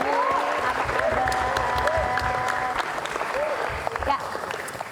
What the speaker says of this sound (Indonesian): Tepuk tangan dong buat Budi Doremi